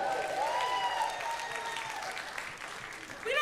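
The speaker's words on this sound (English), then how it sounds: "You guys are a great crowd. Yeah, clap for yourselves." A comedy club audience claps for itself, a moderate burst of applause beneath a performer who keeps talking over it, the clapping swelling briefly near the end.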